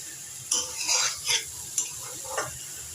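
Spices, onion paste and ginger-garlic paste sauté in oil, making a low sizzle punctuated by several distinct scraping strokes of a utensil stirring the pan, close and with no talking.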